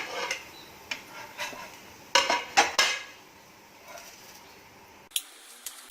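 A cooked semolina (suji) cheela is lifted off a pan onto a plate, with a few light clinks and scrapes of a metal spatula against cookware, sparse and fairly close, no talking.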